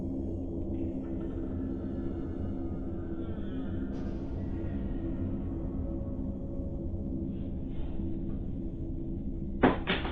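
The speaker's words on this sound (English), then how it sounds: "First, the door closes on its own" A door closes on its own in a room recorded by a security camera, a low steady hum running throughout until a single sharp thud near the end.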